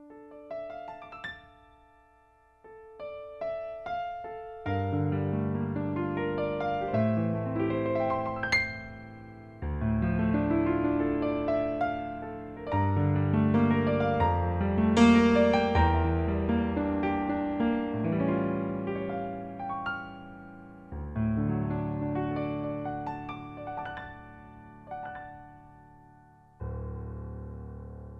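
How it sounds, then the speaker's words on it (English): Stage grand piano voice on a Roland EA7 keyboard playing a full chordal passage with deep bass and bright upper notes, heard close and alone in several phrases with brief pauses between them. "this is the 88 stage grand piano."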